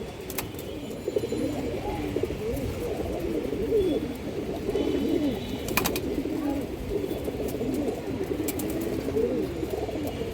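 Pigeons coo in low, throaty repeated calls close by, several birds overlapping in a continuous murmur, with a few sharp clicks and taps scattered through.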